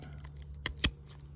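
A pair of pruners snips through a grapevine near the callus, giving two quick, close crunching cuts in succession over a low steady hum.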